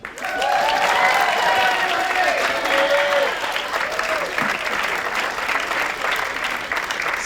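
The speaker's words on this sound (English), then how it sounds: "Continue your applause." A crowd claps and cheers at a spring stage show, a dense wash of applause that swells quickly and stays steady, with a few voices calling out over the clapping.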